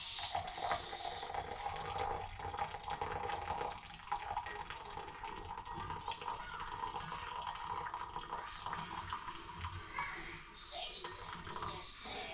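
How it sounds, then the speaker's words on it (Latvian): Boiling water poured steadily into a bowl on kitchen scales while making dough for homemade chebureki, a continuous quiet trickling pour lasting throughout. "Lejam vardošu ūdeni"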